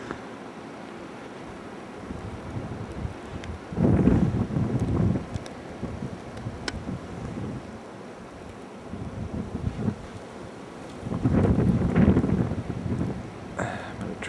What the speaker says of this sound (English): the temperature difference between the air and the water is creating very, very intense snow, along with extremely gusty winds